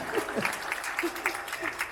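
Audience applause at a school graduation farewell ceremony at SMP Negeri 48 Samarinda, a steady patter of many hands clapping at moderate distance, lasting a couple of seconds with no speech over it.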